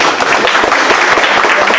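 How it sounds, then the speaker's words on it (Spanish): A seminar audience at an entrepreneurship session on personal data protection applauds in a loud, close, continuous burst of clapping that holds steady throughout. "aplauso muy especial para el"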